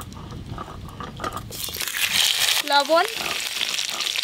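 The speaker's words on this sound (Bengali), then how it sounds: "আলুগুলো ভালো করে ভেজে নেব।" Potatoes frying in hot mustard oil, a steady bright sizzle and crackle that swells midway, with someone briefly speaking over the cooking.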